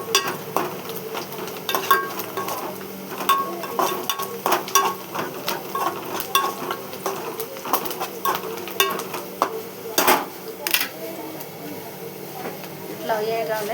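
Cucumber pieces are stir-fried with tomato, ginger and turmeric in a pan. Light sizzling runs under repeated metallic clinks and scrapes of a spoon against the pan, while a voice talks intermittently.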